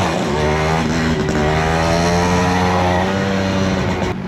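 A small enduro motorcycle's engine drones loud and close on a trail ride, holding a steady rev with a rising pitch and no pauses.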